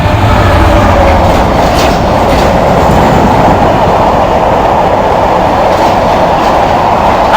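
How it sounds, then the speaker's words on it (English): A long freight train hauling empty Halewood car carriers behind locomotive 66058 rumbles past at Birmingham International, loud and close. The wagons roar and clatter continuously throughout. "Freight train just coming through the Halewood car carriers with"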